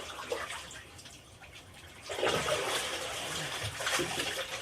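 Water runs into a bathtub, a soft splashing gush that grows louder and fuller partway through, close by and with no voices.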